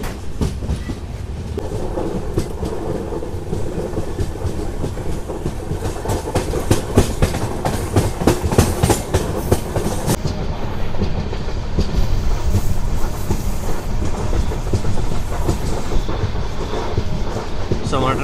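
The 13125 Kolkata–Sairang express rolls along the track beside a lake in the Mizoram hills, its loud, steady clickety-clack of wheels over rail joints filling the whole stretch up close.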